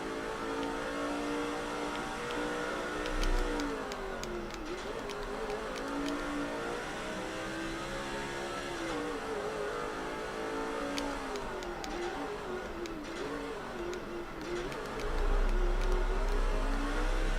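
Race car engines in NASCAR 06 at Infineon whine steadily, their pitch rising and falling as they accelerate and ease off through turns, with a louder rumble near the start and end.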